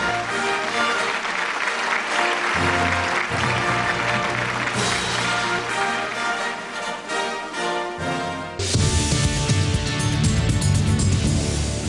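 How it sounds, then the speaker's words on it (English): An audience at a business awards event claps in sustained applause, steady and full, swelling louder near the end; no talking over it. "A big round of applause for Shanti Ikamran."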